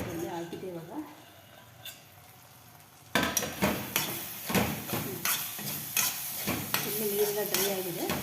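Capsicum curry being dry-fried in a pan, quiet at first, then loud repeated scraping stirs of a spoon against the pan over a soft sizzle, with a person talking alongside.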